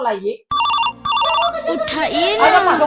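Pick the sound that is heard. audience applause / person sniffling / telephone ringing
telephone ringing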